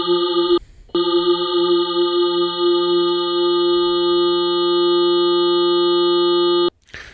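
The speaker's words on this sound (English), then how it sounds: "you're going to get the super saw effect where multiple versions are created" A Dave Smith Instruments Pro 2 synthesizer plays a super saw waveform, a bright, buzzy sustained tone. It cuts out for a moment, then holds steadily for several seconds before stopping abruptly.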